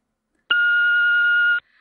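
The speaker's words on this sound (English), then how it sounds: "If you have a message for Jim, please leave it now" An answering machine gives a single steady electronic beep, clear and close, holding for about a second before cutting off into silence, with no voices.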